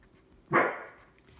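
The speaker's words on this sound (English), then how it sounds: "my dog's barking at something" A dog gives a single short, close bark that rings out briefly over a quiet room.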